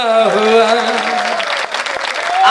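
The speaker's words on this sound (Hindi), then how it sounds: "तालियां पीछे भी बजनी चाहिए।" An audience at a Hindi poetry recital claps. A sustained voice fades out as a burst of applause takes over, loud and dense, for a couple of seconds.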